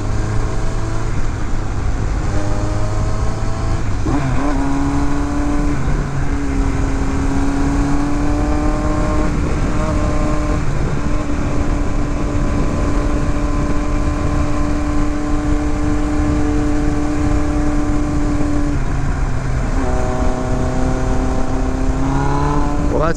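A 1982 Kawasaki GPZ1100 superbike cruises along a country road at steady moderate engine speed, its droning exhaust note rising and falling through gear changes, held back behind slower traffic rather than revving hard.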